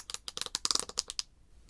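A Smartomi Hoop headphone band is adjusted, producing a quick series of about a dozen sharp, crisp little clicks in close succession, close up and quiet, then stopping.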